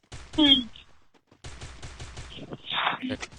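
Short rapid bursts of gunfire come from a Free Fire battle-royale match, mixed with other game effects and a voice.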